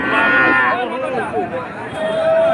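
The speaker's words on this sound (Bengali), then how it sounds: "দর্শক সুন্দর সুন্দর গরু এই হাটে আসে" Cattle low loudly at a busy rural cattle market in Betaga, with several overlapping moos from close by and a long sustained call at the end, over a murmur of background crowd noise.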